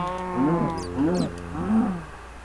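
A cow in Minecraft moos three times in a row, each call a drawn-out, wavering low bellow, with short pauses between them.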